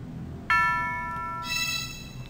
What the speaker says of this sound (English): The bells, tubular bells.